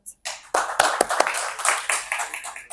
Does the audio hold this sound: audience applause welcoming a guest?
yes